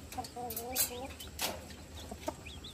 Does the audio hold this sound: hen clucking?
yes